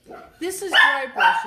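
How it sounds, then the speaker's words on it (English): Dog barking at people riding past on bikes: a few short, sharp barks close by during a dry-brushing painting lesson, with a person talking over them. "some people just rode by on bikes and that sets the dog off"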